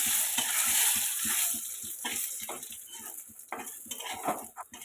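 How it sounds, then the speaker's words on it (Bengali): Spices for tempering crackle and sizzle in hot oil in a pot of khichuri made with rice, lentils, potato and carrot. A spoon scrapes and clinks against the metal pot in quick, uneven strokes, close and without talk. "এই যে ফোড়ন দিচ্ছি"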